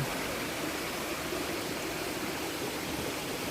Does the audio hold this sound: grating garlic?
no